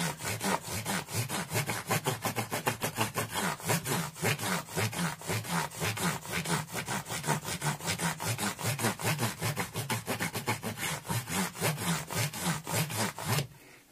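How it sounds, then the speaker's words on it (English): Continuous rapid rhythmic rubbing from a Dremel with a soft cloth wheel polishing the fretboard of a Korean Squier Telecaster, steady and close for the whole span before stopping abruptly at the end. "The Dremel will use a soft cloth head thing wheel, so again we're very much in polishing mode."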